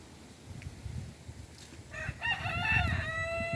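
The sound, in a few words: chicken clucking in garden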